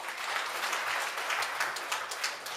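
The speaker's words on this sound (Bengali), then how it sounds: "আমরা একটি হাততালি দিই।" Brief, fairly soft applause from a concert-night crowd at a Udichi New York event in 2015, many hands clapping at once in a continuous patter with no voices over it.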